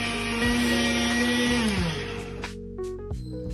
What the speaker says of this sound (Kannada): ಕಡಲೆನ ಮಿಕ್ಸರ್ ಜಾರ್ಗೆ ಹಾಕ್ಕೊಂಡು ಫೈನ್ ಪೌಡರ್ ಮಾಡ್ಕೋಬೇಕು